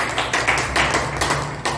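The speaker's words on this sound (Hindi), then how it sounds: "ताली बजाओ जोर से" A lecture audience claps loudly in a hall, a dense burst of many hands that rises and falls in waves for a couple of seconds, with no talk over it.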